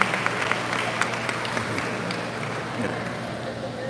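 Audience applause for Padre Leonardo Vigilo de la Cruz Vigilo at a Catholic question-and-answer gathering, a steady dense clapping crowd mixed with voices and scattered cheers.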